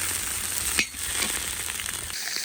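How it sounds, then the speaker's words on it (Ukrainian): Pork ribs frying in a kazan cauldron over a campfire give off a steady close hiss and crackle of sizzling fat, with a brief stirring scrape partway through and no talking. "Осмажуємо наші реберця до золотого кольору"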